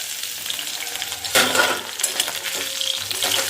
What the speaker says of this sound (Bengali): তার জন্য এই যে আলু ভাজছি।